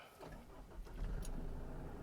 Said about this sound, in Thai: ขออนุญาตเหยียบเบรกสตาร์ทครับ